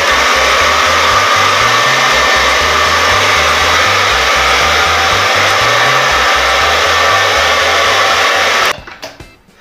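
A handheld hair dryer blows steadily on hair during a Brazilian straightening treatment, a loud, even whooshing roar with a low pulsing hum that holds for about nine seconds, then cuts off abruptly.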